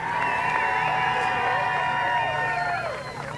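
Crowd at Columbus Motor Speedway cheering and whooping steadily for the modifieds main event winner, a loud sustained roar of many voices with a slight dip near the end.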